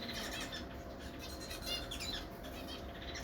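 Zebra finches kept in a setup on a balcony let out faint, scattered high chirps and short tweets over a soft, steady background hush, with no speech.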